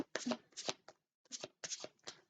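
Tarot cards shuffled in bursts of crisp riffling and slapping, several quick passes separated by brief pauses, close and clear with no talking.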